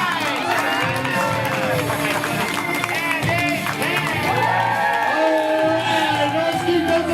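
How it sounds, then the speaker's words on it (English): An audience at a live stage event applauds and cheers, a loud, sustained roar of clapping mixed with shouts and crowd noise that carries on throughout. "Let's keep those applause going"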